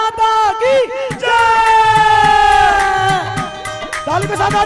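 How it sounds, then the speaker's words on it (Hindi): A crowd at an Independence Day patriotic song event roars the chant 'Bharat Mata ki Jai' in a loud, sustained, drawn-out cry, with overlapping voices close and strong throughout. "जोर से कहिए भारत माता की जय"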